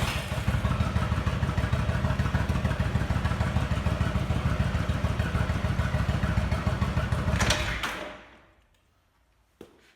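A Yamaha V Star 1100 bobber engine runs in gear with the rear wheel off the ground, a loud steady rumbling beat for about eight seconds before it cuts out and fades to near silence, ending with a single click.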